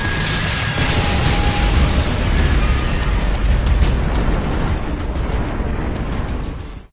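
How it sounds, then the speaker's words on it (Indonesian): A massive explosion at a fortress in the Attack on Titan anime roars as a sustained, loud, broadband rumble with heavy low end for several seconds before cutting off abruptly. "ledakan hebat pun terjadi di benteng Salta"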